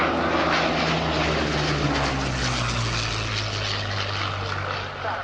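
A Supermarine Spitfire's piston engine and propeller drone steadily and loudly as the fighter comes in to land at an airshow, a continuous low throbbing roar that holds for the whole stretch and dips slightly near the end.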